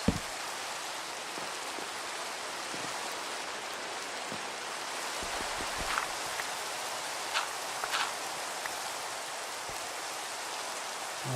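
Steady outdoor rain hissing evenly across the whole stretch, with occasional closer drips and taps standing out; no one speaks.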